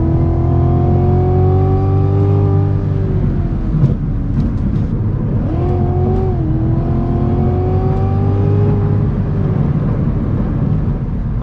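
A third-generation Cadillac CTS-V accelerates hard from 0 to 60 mph with its traction light flickering, the engine note climbing in pitch through each gear, broken by brief shift pauses, loud and sustained from inside the car.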